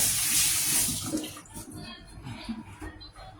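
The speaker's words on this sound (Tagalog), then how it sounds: "Tapos, hugas ang kamay." Hands are washed under a running tap, a loud steady gush of water at first that eases into softer splashing and rubbing, close by with no talk.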